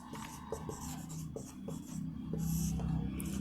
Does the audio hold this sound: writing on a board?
yes